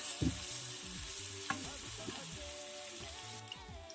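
Bananas fry in a pan over a full flame, a faint crackling sizzle with scattered pops and light stirring clatter, close by.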